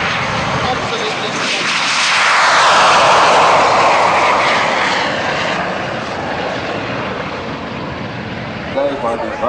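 A Boeing 737-200 or 737-300 flies past at an airshow in Durban, a loud roaring jet rumble that swells to a peak midway and then slowly fades.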